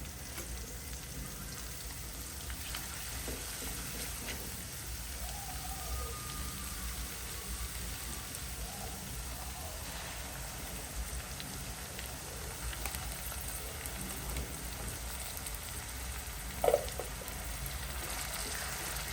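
Onions frying in a pan for pav bhaji on a low gas flame, a steady, soft crackling sizzle that runs evenly throughout, with a single brief clink near the end and no talking.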